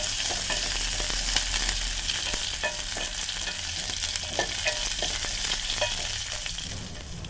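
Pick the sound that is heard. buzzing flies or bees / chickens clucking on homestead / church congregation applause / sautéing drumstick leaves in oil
sautéing drumstick leaves in oil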